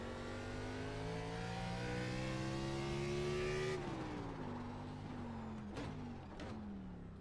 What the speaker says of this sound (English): I'm going to do a high-speed entry to pit road just to give that a shot